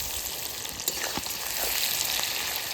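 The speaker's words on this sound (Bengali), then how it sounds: "লবণটা দিয়ে দেবো, পেঁয়াজটা তাড়াতাড়ি ভাজা হয়ে যাবে।" Onions sprinkled with salt frying in hot oil, giving a steady, close, loud sizzle with a few soft stirring knocks through it.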